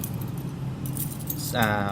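A bunch of keys jangling on a key ring, a close metallic rattle and chime in a short burst near the end, with someone talking throughout.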